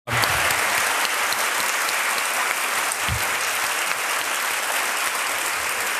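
An audience at a National Writers Series author event gives Morgan Springer a loud, sustained round of applause, a thick, steady patter of many hands clapping close by for several seconds.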